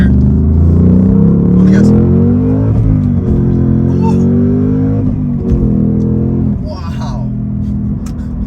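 A 2022 Ford Mustang Mach-1 with the Handling Pack pulls hard through the gears, its engine roaring loud and close with steady revving rising and dipping at each shift, while a man exclaims over it.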